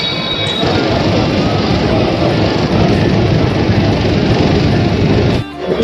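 A Kolkata metro train in motion, heard from inside: a loud, steady rumble and rattle that holds for several seconds, then drops away abruptly just before the end.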